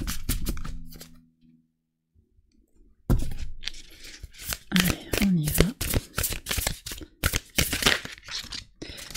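Tarot cards are shuffled in a quick run of crisp riffling bursts and soft slaps, after an opening of low tones and a brief near-silent pause, close and clear.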